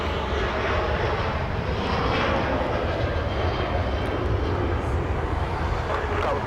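A Southwest airliner on departure from Los Angeles International Airport bound for San Francisco, a loud, steady engine roar filling the air continuously, with a voice faintly audible beneath it.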